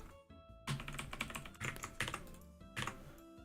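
Fast typing on an AZERTY computer keyboard, close and fairly quiet, with dense bursts of clicking keystrokes separated by short pauses.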